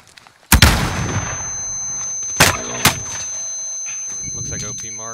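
Gunshots in a video game: one loud sharp blast followed by two more shots a couple of seconds later, each with a short decaying tail over a steady background hum.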